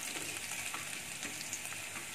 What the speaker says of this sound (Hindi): अदरक लहसुन को थोड़ा सा फ्राई करेंगे